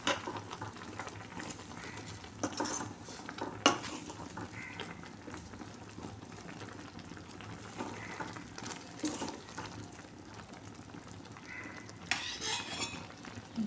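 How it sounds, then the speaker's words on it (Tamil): A spoon scrapes and clinks against a pan while eggplant kootu is stirred, producing soft irregular metallic taps and scraping over a quiet background, with a few louder knocks. "நல்லா கிளறி விடுங்க."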